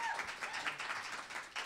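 Audience of roughly thirty to forty people clapping for Caleb Garfinkel at a Labyrinth anniversary event, a steady patter of hands from a small crowd sustained throughout.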